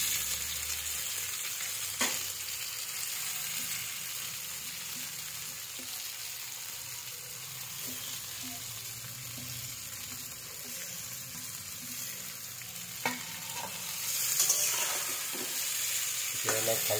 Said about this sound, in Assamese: অলপ ভালকৈ মিক্স কৰি